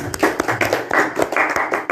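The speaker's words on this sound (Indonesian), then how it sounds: "tepuk tangan dulu." A small group of listeners claps hands together at a youth gathering, close and uneven bursts of slapping claps over two seconds.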